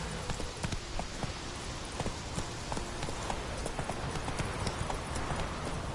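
Horse hooves galloping in The Witcher 3, a fast, steady clip-clop of hoofbeats running continuously at close range.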